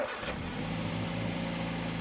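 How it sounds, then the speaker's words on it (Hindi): A car engine catches and settles into a steady idle after being started with a jump starter, a brief cranking burst at the very start giving way to an even mid-pitched hum, fairly quiet and without talk. "तो गाड़ी हमारी फर्स्ट टाइम स्टार्ट हो गई"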